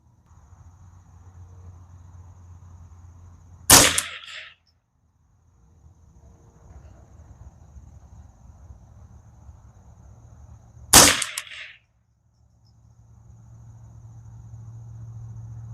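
A custom Ruger 10/22 rifle fires two sharp, loud shots several seconds apart outdoors, each a crisp crack with a short ringing tail over faint background insects.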